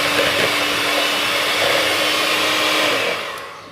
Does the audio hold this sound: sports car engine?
no